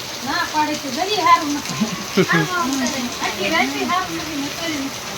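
A steady, dense rush of heavy rain pours down continuously, close and loud, with someone speaking over it the entire time.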